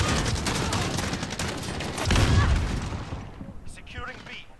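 Shotgun fire in the video game Modern Warfare: heavy, close, overlapping blasts, with a louder boom near the middle. The shooting then thins out to quieter game sounds, and a voice speaks briefly under the gunfire.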